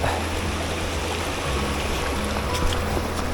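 A small mountain stream in the snow gurgles and rushes steadily nearby, a dense unbroken wash of flowing water with no voices.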